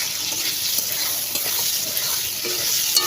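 Pabda fish cooks in a pan while a utensil stirs it, giving a continuous bright sizzle with soft scraping and a wet, watery edge throughout.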